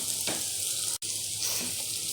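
Ginger dropped into a hot frying pan while cooking a home-style gizzard, liver and pea curry, giving a steady, bright sizzle that runs continuously with a brief cut midway.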